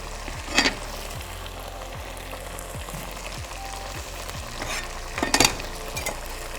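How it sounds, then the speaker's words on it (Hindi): Ginger and garlic sautéing in a pan, a steady sizzle running throughout with the scrape of stirring strokes and a couple of louder stirring bursts. "हमने अपना जिंजर गार्लिक अदरक लहसुन हमने इसमें सौते कर लिया है।"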